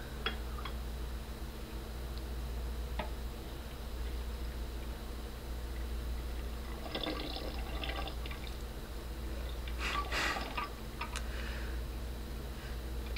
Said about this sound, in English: Now I add the juice.